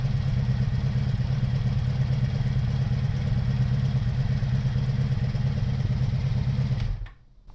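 Small engine idling as it warms up, a steady low, pulsing chug held close and fairly loud, then cut off abruptly near the end into near silence.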